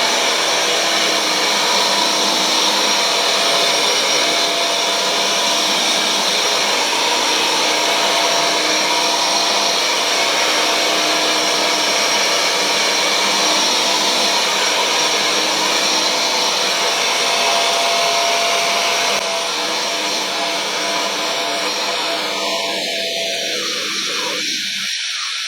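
A loud, steady roaring whine of a Bissell CrossWave HydroSteam wet-dry vacuum cleaning a wet area rug runs continuously close by, its pitch shifting slightly near the end.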